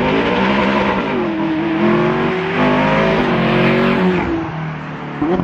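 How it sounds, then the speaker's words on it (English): A Ferrari approaches and drives past close by, its engine loud and revving with a rising then falling pitch as it passes, fading slightly toward the end. "Here comes the Ferrari."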